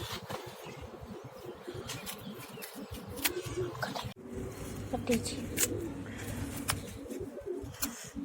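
Pigeons coo in a loft, soft rolling calls repeating close by beneath a voice talking, with light rustling and background hum.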